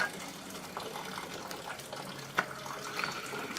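Coolant drains from the radiator of an R32 Skyline with the radiator cap cracked open, a steady soft trickle and gush of liquid, fairly quiet, with a brief sharper splash partway through.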